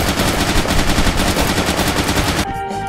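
Sustained rapid gunfire in the multiplayer tactical game Intruder, a loud dense burst of shots lasting over two seconds before cutting off abruptly into quieter tonal game sound, with no talking.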